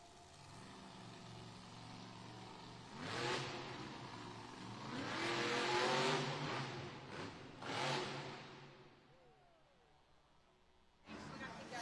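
The Kraken monster truck's engine refires and revs in surging bursts during a Monster Jam arena event in Pensacola, Florida, loud over crowd and arena noise, dropping low before a final roar.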